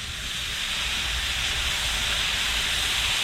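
Soy sauce poured over charred, blistered shishito peppers in a hot pan, giving a loud, steady steam hiss that carries through the whole stretch with no talking.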